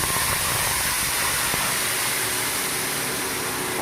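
Poppy seed and mustard paste hits hot tempered oil, setting off a steady, loud, even sizzle that hisses unbroken throughout with no voices.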